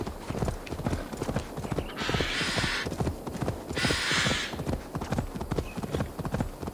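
In Assassin's Creed Valhalla, a horse's hooves clip-clop in a steady, quick rhythm up close, with two bursts of hissing noise passing over the gait partway through.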